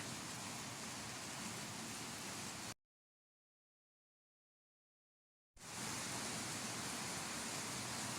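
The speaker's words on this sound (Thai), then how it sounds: "ค่ะบรรยากาศในมื้อนี้ค่ะเสียงฝนตก ฝนตกเบิดมือเบิดขึ้นเนาะค่ะ" Steady rain pours down in a broad, even hiss, cutting out completely for a few seconds in the middle before resuming at the same full level.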